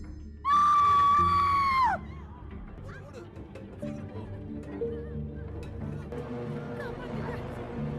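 A loud, high-pitched scream rings out for about a second and a half, then gives way to low murmuring crowd noise and background music.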